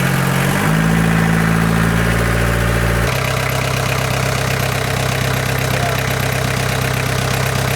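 A repaired motorbike engine idles steadily and loudly up close, running evenly after a brief change in pitch near the start.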